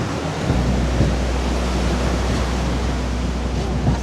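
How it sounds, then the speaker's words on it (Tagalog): Strong surf and gusting wind at Baler beach in the Philippines, a loud continuous roar of breaking waves with broadband wind noise buffeting the microphone and no voices. "Lakas ng alon, guys."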